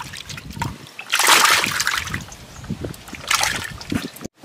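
Live climbing perch thrash in water, sending out two bursts of loud, close splashing with lighter sloshing and dripping between them.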